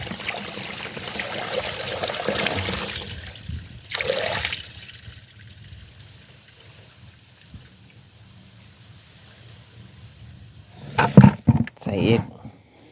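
Food is washed by hand in water until the water runs clear, with soft trickling and splashing that swells near the start and grows into short, louder sloshing bursts at the end.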